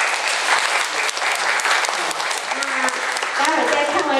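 An audience at a film screening welcomes a guest with steady, full applause filling the room, while voices rise over it toward the end.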